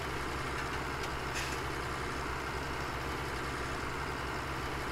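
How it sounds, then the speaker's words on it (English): A two-wheel-drive John Deere 4760 tractor from Farming Simulator 17 runs with a steady, even engine drone, moderately loud and unbroken throughout, no speech. "it has a nice sound to it, a little bit different than some of the other tractors I've seen"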